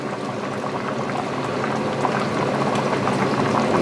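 Light cream poured into a pot of thick, hearty clam chowder, a steady, loud bubbling liquid rush that continues unbroken for several seconds, with no voices.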